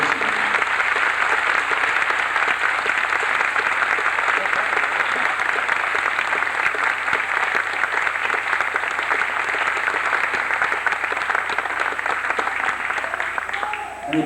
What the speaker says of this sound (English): I think these people deserve a round of applause for many years of dedication.